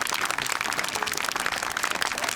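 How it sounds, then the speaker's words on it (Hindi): Crowd applause at an outdoor tree-planting gathering as a local political leader is introduced: a dense, steady wash of many hands clapping, continuous and fairly loud throughout, with no voices. "तालियां।"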